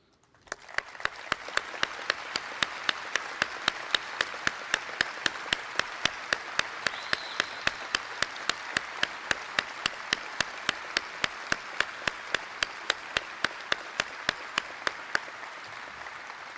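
Audience applause at the Memphis Belle ceremony, 16 May 2018, for standing combat crew families: a steady, dense wash of clapping across the whole stretch with sharp, evenly spaced ticks riding on top, no voices.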